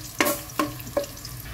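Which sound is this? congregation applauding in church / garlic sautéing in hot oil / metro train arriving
garlic sautéing in hot oil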